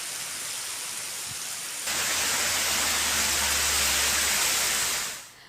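Heavy rain pours steadily in Pachora taluka, Jalgaon, a broad hiss that swells louder after a couple of seconds with a low rumbling undertone, then fades at the end; no voices.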